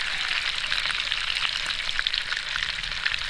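Bacon frying for a burger, a dense continuous sizzle and crackle heard up close with no voices.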